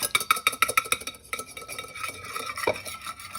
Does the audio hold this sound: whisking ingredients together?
yes